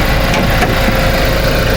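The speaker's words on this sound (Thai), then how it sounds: "เครื่องยนต์เดินนิ่งๆสวยๆเลย" Pickup truck engine idling smoothly at close range, a dense, steady rumble with no revving, loud and unbroken for the short stretch.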